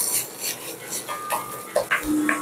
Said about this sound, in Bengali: এই বাটাটা ভালো করে নেড়ে জল যেটুকু আছে সেটুকুকে শুকিয়ে নেব